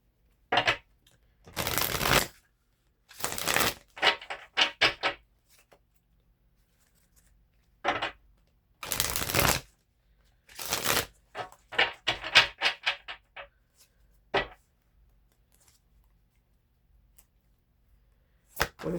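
A Psychic Tarot card deck being shuffled by hand, heard as close, crisp riffling bursts separated by short pauses, a few long broadband sweeps mixed with quicker clustered flicks, with no talking.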